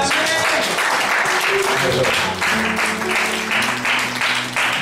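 Congregation at a church service in Paris clapping to acclaim the Lord, a loud steady wash of many hands applauding together throughout, with a few voices and cheers mixed in.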